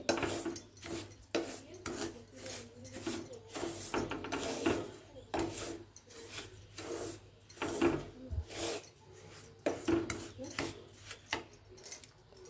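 Semolina roasting in oil and ghee in a pan, stirred steadily with a spoon, giving repeated scraping and rustling strokes close by, with soft clinks from the utensil.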